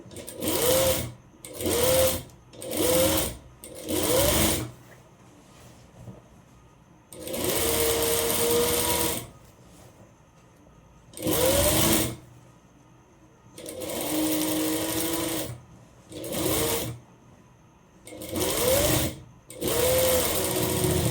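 A sewing machine runs in short repeated bursts of stitching, joining the armhole side seam of a one-piece umbrella frock at a quarter-inch allowance, each burst loud and close, separated by brief pauses.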